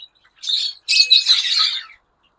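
Lovebirds kept as a breeding pair give shrill squawks and chirps, a short call followed by a longer scratchy burst, close and clear against a quiet background.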